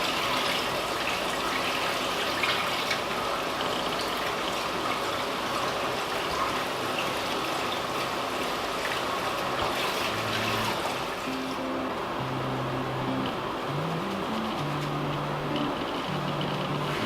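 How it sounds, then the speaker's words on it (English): Warm tap water pours steadily from a faucet through cooked noodles in a kitchen, a continuous close gush and splash that runs without break. "I'm just going to run some warm water through the noodles just to rinse out all the starches"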